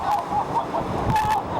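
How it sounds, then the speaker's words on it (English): Lake Erie waves crashing in a winter storm with high winds, a loud continuous roar of surf and wind with surging wash, close and steady throughout. "High winds with gusts up to 60 miles per hour and waves crashing 20"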